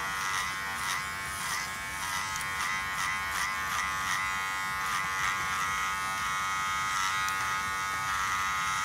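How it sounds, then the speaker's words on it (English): An electric hair clipper with a number 3 guard buzzes steadily while cutting hair for a mid taper fade mullet, its close, continuous hum rising and dipping slightly with each pass. "now I'm going to work with my clipper"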